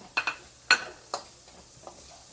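Garlic fries in a pan for a chicken dish, with a few quick stirring scrapes and clinks over a faint low sizzle, close and quiet, with no talking.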